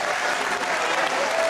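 A comedy show audience breaks into sustained applause, a thick, continuous patter of many hands clapping, loud and close throughout.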